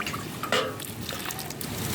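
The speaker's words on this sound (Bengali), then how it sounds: "এবার এগুলোকে ধুয়ে নেওয়া যাক।" Chopped banana flower being rinsed in water in a village kitchen, with soft splashing and trickling that swells briefly, close and steady throughout.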